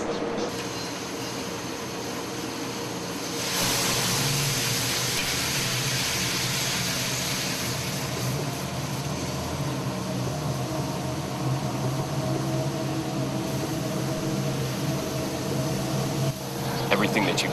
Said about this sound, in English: We use natural gas to roast coffee.